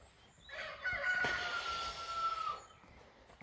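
A rooster crows once in a rural Breton garden setting, a moderately distant, drawn-out call rising and trailing off over quiet outdoor ambience.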